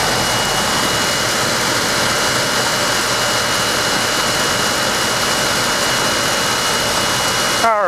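A 2004 Carrier 3-ton heat pump with a reciprocating compressor runs outdoors as a steady, broadband whirring hum. The level stays fairly even and continuous throughout, with a brief change at the very end.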